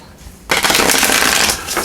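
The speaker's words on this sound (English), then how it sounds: "So we'll give it 3 shuffles." Blue Angel Oracle cards shuffled in the hands for a pick-a-card reading, a dense, steady papery riffle and rustle that starts abruptly after a short quiet lead-in and runs loud and close to the end.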